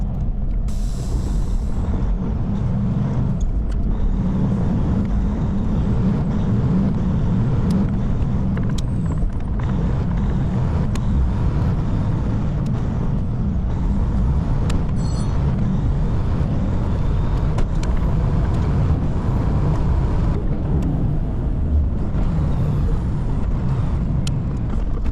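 A heavy haul truck pulls away and drives on, a constant low diesel rumble and cab road noise filling the whole stretch, with an air brake hiss at the start and faint clicks and creaks.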